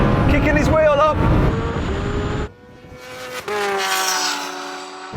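A Lamborghini Huracan Turbo roars through gears in a drag race against a Kawasaki H2R, engine pitch climbing in steps with gear changes, loud and close, with people talking over it.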